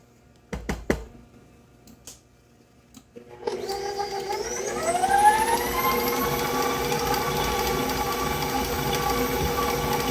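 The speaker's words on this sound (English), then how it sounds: "I've combined my sugar and butter together and we're whipping this for about 10 minutes" Electric stand mixer starting up to whip sugar and butter for pound cake batter, after a few clicks its motor whine rises in pitch and settles into a loud, steady drone close by.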